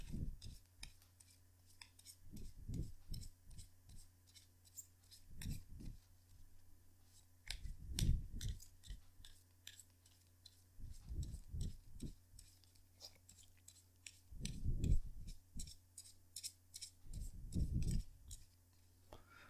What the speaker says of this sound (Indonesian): kartunya dikocok dulu sebelum kita mulai